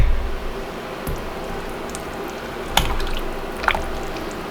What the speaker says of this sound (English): And we're going to pour our soap into here.